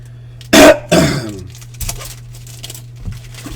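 A man with a tickle and a bit of phlegm in his throat gives two sharp, close throat-clearing coughs in quick succession, then falls quiet apart from faint handling noises over a steady low hum.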